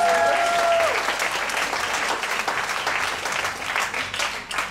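A crowd at a PechaKucha Night in Ubud, Bali, applauds speakers with loud, sustained clapping that fades slightly toward the end.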